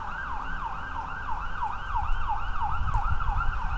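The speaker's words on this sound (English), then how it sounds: "More sirens." An emergency vehicle siren wails in a steady rapid up-and-down yelp, heard outdoors at a moderate distance over faint low road rumble.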